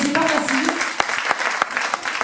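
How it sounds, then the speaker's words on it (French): An evening multi-conference audience applauds four presenters of different therapies: dense clapping throughout, with voices and a few cheers mixed in. "je vais vous demander de les applaudir"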